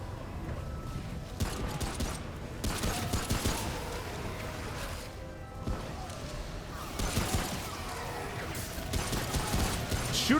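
Continuous gunfire in the Remnant From The Ashes video game, a dense rattle of shots and mechanical clatter running under occasional talk, moderately loud throughout.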